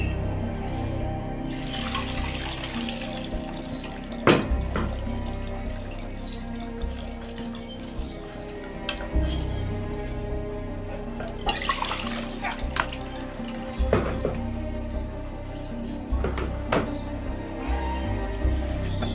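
Diluted tamarind water is poured into a cooking pot in a home kitchen, giving a steady watery splash and trickle with a few clinks of the pot, under background noise and faint voices.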